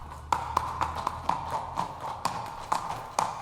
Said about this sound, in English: The sound of the hooves echoed against the rocks as they led their horses into the canyon.